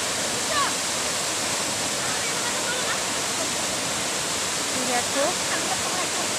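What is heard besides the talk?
waterfall rushing water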